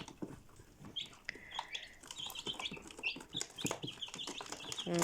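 Chicks peep and cluck softly in a quiet farmyard, with scattered chirps and small bursts of activity throughout.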